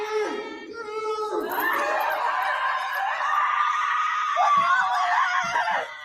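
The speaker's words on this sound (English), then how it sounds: "this screaming is tough on my ears" Shrill screaming from several people in a tense TV drama scene, continuous and loud for about six seconds, with overlapping voices rising and falling and a few laughing or snickering sounds mixed in near the end.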